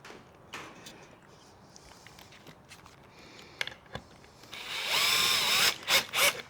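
A power drill boring a short pilot hole for a screw in wood, a steady whirring burst near the end after quieter shop handling noises and footsteps.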